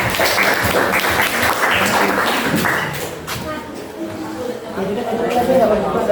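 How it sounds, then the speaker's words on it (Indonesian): Applause from an audience at a school meeting about managing school resources, steady clapping for about three seconds that thins out, with talk and chatter mixed in. "Ya, tepuk tangan buat Nadia"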